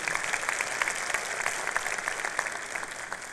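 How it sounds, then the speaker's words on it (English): An audience applauds at a 2023 college convocation and commencement ceremony in Houston: steady, moderately distant clapping of many hands with scattered sharper claps throughout. "Let's give them an applause."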